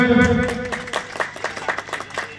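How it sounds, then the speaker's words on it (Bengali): Applause from a crowd gathered for the inauguration of a Durga puja pandal by a junior sporting club, a burst of scattered clapping rising after a voice and continuing at moderate loudness for a couple of seconds. "হাততালি দেবেন।"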